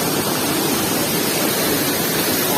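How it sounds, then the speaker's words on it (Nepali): The Jhor waterfall roars close by, a dense, steady rush of falling water that fills the whole span evenly and never lets up. "यो झरनाको साउन्डको डिस्टर्बले मेरो साउन्ड त सुन्नु भएको छैन होला"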